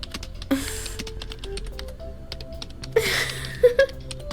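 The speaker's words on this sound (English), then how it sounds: "Why is there still a typing sound?" Rapid keyboard typing in a visual novel game, dense irregular clicking taps running throughout with a few soft chime tones and brief whooshing swells, fairly close and alone without talk.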